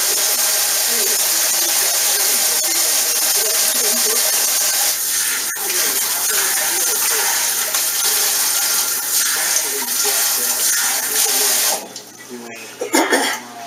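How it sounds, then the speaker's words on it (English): Tap water running steadily into a sink while grease is washed off, a continuous close hiss and splash with some speech-like sounds mixed in, ending abruptly as the flow stops. "wash the grease off"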